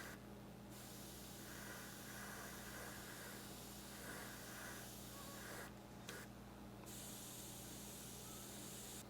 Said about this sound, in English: do a very quick unifying spray